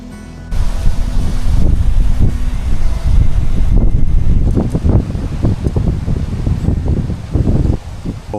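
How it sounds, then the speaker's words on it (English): Strong wind blows outdoors on a hiking and fishing trip, roaring loud and close against the microphone with low rumbling buffets that surge and ease, then break into gusty bursts toward the end. "it's really windy today"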